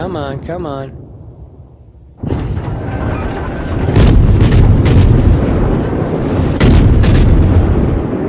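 Naval gunfire in the World of Warships game, ship Nueve de Julio: heavy booming salvos over a continuous roaring battle rumble, loud and dense, following a voice at the start.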